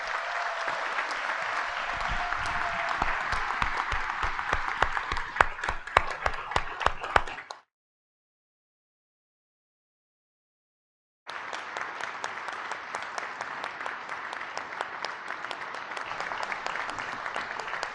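An annual town meeting audience applauds a retirement, dense steady clapping that cuts to silence for a few seconds and then resumes just as full.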